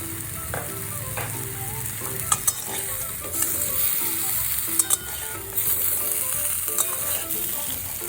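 Raw mango pickle with turmeric being stirred in a hot pan, a steady close sizzle with a spoon scraping and clicking against the metal in irregular strokes.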